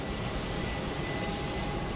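Piston engines of a four-engine airplane drone in a steady, loud, broadband roar with a faint whine, continuous and without talking, as the engines are fired up in order.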